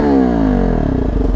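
A KTM Duke 250 motorcycle fitted with an SC Project exhaust, loud and close, its engine note dropping steadily as revs fall back toward a throbbing idle, with no voices.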